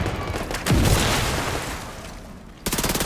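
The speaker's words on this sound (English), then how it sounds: "Use that submachine gun, fab." Submachine gun fire from the video game Just Cause 4: rapid loud bursts at the start and again at the end, separated by a booming blast and a fading rumble, with no voices.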